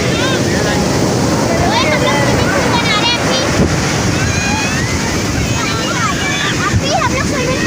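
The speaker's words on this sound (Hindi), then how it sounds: "इतना तेज़ है, इतनी लहरें हैं" Strong ocean waves roar steadily at Turtle Beach in Karachi, loud and constant with heavy wind buffeting, while distant voices of beachgoers are faintly mixed in.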